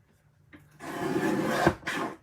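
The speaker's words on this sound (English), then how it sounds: "I'm just going to trim it at the barcode." Scrapbook paper being trimmed at the barcode with a paper trimmer, a brief click followed by a sustained scraping slide of the blade and a short final rasp, close and fairly loud.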